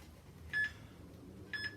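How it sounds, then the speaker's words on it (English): Two loud electronic interval-timer beeps during a brown-belt martial arts class, each a short bright tone, one near the start and another about a second later, over low room noise with no talk. "So loud beeps."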